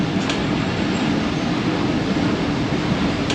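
Pak Business Express train pulling away from Ghotki station at dawn, heard as a steady, loud rumble of wheels and carriages rolling on rails without a break, with no voices.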